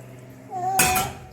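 Hot water splashes into a cooking pot of toasted spices for an Iraqi sour turnip dish, a short loud rushing burst after a brief metallic ring.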